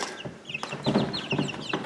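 Young, fully feathered chickens in a brooder with a water and feeder setup, clucking and peeping close by in quick, overlapping bursts, fairly loud and with no talking.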